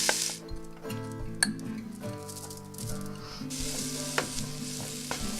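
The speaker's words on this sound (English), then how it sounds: "Fry the veggies for a few minutes" Diced vegetables fry in hot cooking oil in a pan for a vegan tofu scramble, a steady close sizzle with occasional stirring rattles and clinks of a utensil against the pan.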